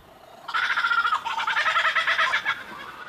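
A lyrebird mimicking other birds' calls rings out close and loud in quick, warbling bursts lasting a few seconds, with a short break before the song resumes.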